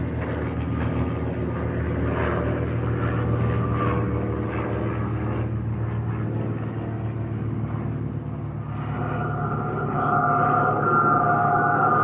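A propeller aircraft from a 1976 Afrikaans comedy flies with a steady, droning engine hum that stays loud and continuous, shifting slightly in pitch near the end, with no talking.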